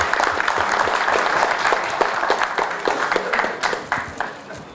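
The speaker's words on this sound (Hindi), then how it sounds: "संकेत सर के लिए एक ज़ोरदार ताली हो जाए." Applause from a conference audience at a national conclave, a close burst of many hands clapping with distinct sharp claps, fairly loud at first, then thinning out and trailing off into scattered final claps.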